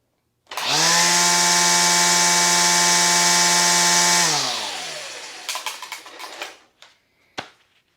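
A Milwaukee M18 Fuel string trimmer with a replaced head runs on its high-speed setting, giving a loud, steady whine for a few seconds before spinning down, followed by clattering handling sounds.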